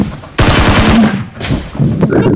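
Rapid bursts of automatic gunfire in the mobile battle royale game PUBG Mobile, a loud close volley followed by a second shorter burst, with faint voices mixed underneath.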